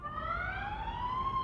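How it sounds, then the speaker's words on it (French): Fire engines responding to a blaze amid 1978 street protests in Iran, their sirens wailing in long, slowly rising tones at moderate distance over a low background rumble. "Voilà les voitures de pompiers qui maintenant viennent tenter d'éteindre cet incendie."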